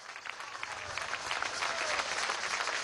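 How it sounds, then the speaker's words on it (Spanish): Crowd applause at a university campus inauguration event in Delta Amacuro, dense steady clapping building slightly and continuing evenly, heard at moderate distance. "Vamos a dar un aplauso al capitán revolucionario, Diosdado Cabello Rondón."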